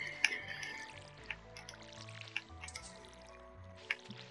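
Watering flowers in the farming game Stardew Valley gives soft, splashy drip sounds that repeat every second or so. They are quiet and sit over gentle background game music.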